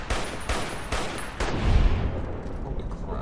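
A Securitron robot in Fallout New Vegas fires grenade launchers and rockets in a quick run of three or four heavy blasts, then a deep rumbling boom that slowly fades.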